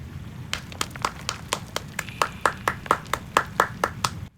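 A single pair of hands claps at an even pace, about fifteen sharp, close claps that grow slightly stronger toward the end over a low background murmur.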